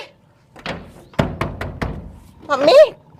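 Someone knocks on a closed door, several quick sharp raps in a row, followed by a voice speaking.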